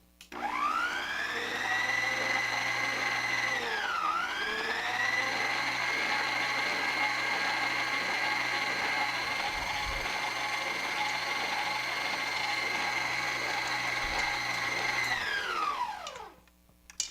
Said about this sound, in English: you're going to mix that on low so the powder doesn't go everywhere